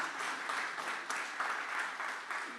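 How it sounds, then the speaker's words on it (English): A crowd at a museum grand opening in Houston applauds community donors, with dense, sustained clapping that swells in waves. "So give all of them a warm round of applause."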